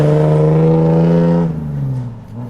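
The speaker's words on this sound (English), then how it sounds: "Just wait for this truck." A truck passes on the road beside a stopped motorcycle: a loud, close, droning engine tone holds steady, then eases and fades after about a second and a half as it moves away.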